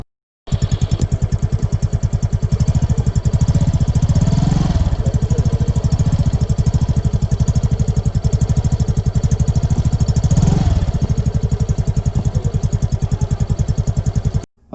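A Yamaha Fascino 125 BS6 scooter engine starts and settles into a steady, close idle with a fast even putter that runs continuously for about fourteen seconds before cutting off.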